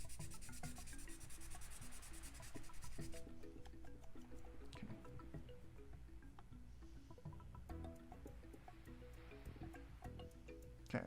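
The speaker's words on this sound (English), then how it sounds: "So that's how I know I need to sand more right here." Quiet, steady rough rubbing as the side of a Wii console board is sanded down, continuing without pause for several seconds with faint scratchy texture and no voices.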